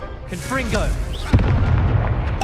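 A Confringo explosion spell goes off in Hogwarts Legacy, a sudden loud boom that rolls into a sustained rumbling blast, preceded by a spoken incantation and game effects.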